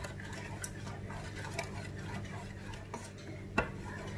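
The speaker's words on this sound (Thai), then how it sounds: "ก็คนไปเรื่อยๆ นะคะ ให้ส่วนผสมละลายให้เข้ากันดีเลยค่ะ" A spoon stirs melting butter and mixture in a pan over medium heat, soft scraping swirls with a few light clicks against the metal, close but quiet, no talking.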